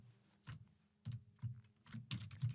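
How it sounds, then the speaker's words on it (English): Keys on a computer keyboard are tapped in short, uneven clusters of clicks with quiet gaps between them, close and fairly soft. "So I'll just type in"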